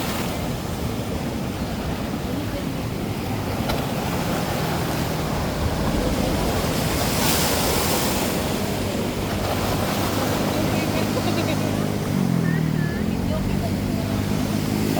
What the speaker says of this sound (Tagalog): Pinakamalaking alon na inaantay natin kanina